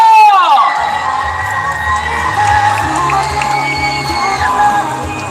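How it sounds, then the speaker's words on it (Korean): A crowd at a horror cosplay contest in Cheongju cheers and whoops loudly, with shouts and high-pitched screams rising over a sustained roar; a short tonal sweep opens the sound. "여러분 박수와 함성으로 시작하겠습니다"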